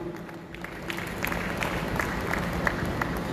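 An audience at a talk on workplace mental health applauds to welcome a speaker, a short burst of scattered clapping over a low room hum, building slightly.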